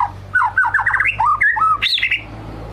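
Male white-rumped shama (murai batu) singing close by, a lively run of varied whistles, chirps and squawking notes in rapid phrases, with a low steady hum underneath.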